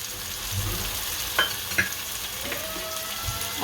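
Tomatoes for a Gujarati chana shaak fry in a hot pan, giving a soft steady sizzle with a couple of sharp stirring clicks and light scrapes, close by and without speech.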